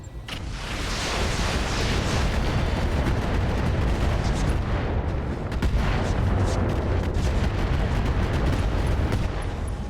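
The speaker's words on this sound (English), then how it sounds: "We're also going to fire AX rounds here to burn through that armor" A mech fires AX rounds at a long tom artillery emplacement in the RogueTech video game, producing a sustained barrage of booming gunfire and explosions that sounds loud, dense and unbroken, with no voices over it.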